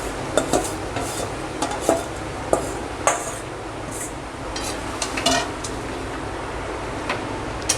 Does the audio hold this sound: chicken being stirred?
yes